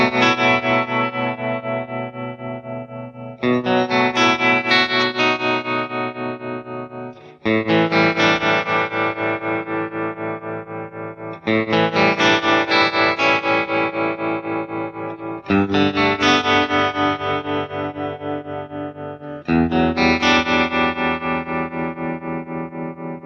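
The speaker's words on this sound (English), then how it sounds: "here's a sound that shows off the great new tremolo circuit." Electric guitar played through a VOX AC30CC amplifier with its tremolo circuit on, sustained chords pulsing in a steady rhythmic volume throb; six long strummed phrases, loud and close, no speech.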